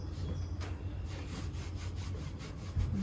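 A paintbrush works rusty-effect paint onto an upcycled item, giving quiet, repeated scratchy strokes in a close, even rhythm with no talking.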